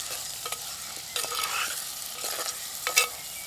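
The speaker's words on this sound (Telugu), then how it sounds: "అల్లం వెల్లుల్లి పేస్ట్ వేసుకుని నేను ఒకసారి ఇలా కలుపుకుని" Prawns with ginger garlic paste stirred in a frying pan, village-style gongura prawns: soft sizzling with intermittent scraping strokes of the spoon, close and alone.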